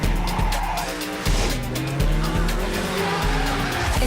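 Cars drift in Juiced 2 with continuous, loud tire squeal and skidding over revving engines. Sliding screeches overlap throughout with no pauses.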